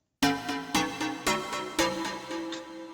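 Original lead synth from a drum and bass track, playing bright, harmonically rich stabs in a steady rhythm, with about five loud accented hits over three seconds that each decay into a sustained tone.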